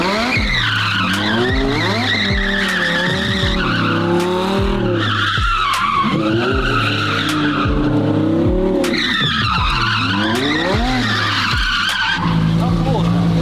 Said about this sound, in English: As you can see, the wheels lock up.